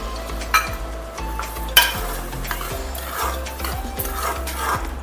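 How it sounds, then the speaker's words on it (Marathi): Spoon stirring reduced milk and carrots in a pan for gajar halwa, a steady bubbling sizzle with repeated scraping clinks against the pot, close and fairly loud. "छान ह्याला असं ढवळून घ्यायचं।"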